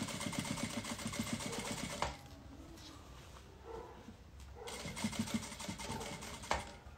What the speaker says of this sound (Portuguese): Nessa hora a gente rebate a costura. E aproveita já pra fechar o forro